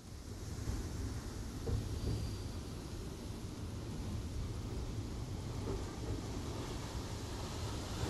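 Heavy monsoon rain near Pune, Maharashtra, recorded on a phone from inside a moving train, gives a dense, constant roar of rain and wind rumble with no speech.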